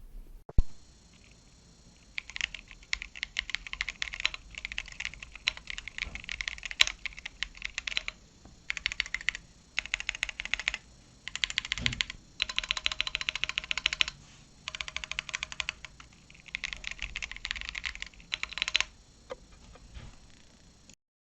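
Close-up typing on a Keychron Q1 Pro mechanical keyboard, bursts of rapid clacky keystrokes separated by short pauses, with occasional louder thocks from larger keys.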